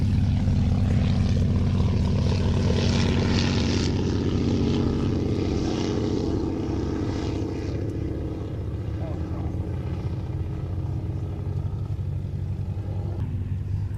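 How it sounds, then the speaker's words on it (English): A Bristol F2B Fighter biplane's propeller engine drones loud and steady nearby, a continuous rumbling buzz that fades slightly as it holds on. "The Bristol F2B fighter."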